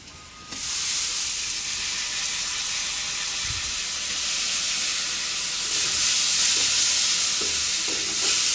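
Fish and shrimp with turmeric sizzle and hiss loudly in a hot pan as they are stirred, the frying growing louder after a quiet start and running steady and close throughout with occasional scraping.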